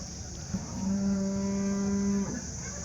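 A single long cow moo at a cattle market, steady and loud, lasting well over a second against a constant background hum, with no talking.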